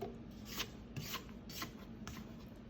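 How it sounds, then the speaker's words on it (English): A spatula scrapes down the sides of a mixing bowl of creamed butter and sugar for chocolate chip cookie dough, making four soft, rhythmic rasping strokes at close range with no talk. "I'm going to scrape down my bowl."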